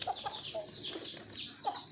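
Hulo chickens on a Negros farm clucking near the microphone, a few short clucks and soft trilling calls spread across two seconds, fairly quiet.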